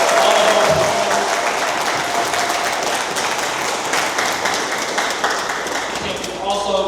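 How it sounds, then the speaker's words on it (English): An audience claps and applauds steadily for event partners, a dense, sustained round of clapping that stays fairly loud throughout and tapers slightly near the end. "Can we give it up for Khalil, Bianca, Ted, Sherry, all of our partners?"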